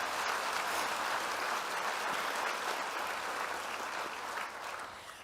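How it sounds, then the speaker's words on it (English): Crowd applause for a young performer at an education awards presentation breakfast, a steady, moderately distant sheet of clapping that holds for several seconds and tapers slightly at the end. "Perhaps we can give him another round of applause."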